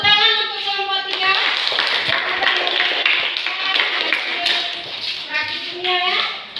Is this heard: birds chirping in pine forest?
no